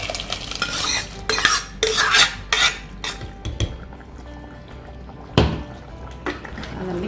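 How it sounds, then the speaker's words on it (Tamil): Cooked dal goes into a pot of Tamil Muslim-style dalcha with loud wet splashes and metal scraping, then stirring clanks against the pot, close and fairly loud. "தாலை வந்து நான் இதில் சேர்க்குறேன்"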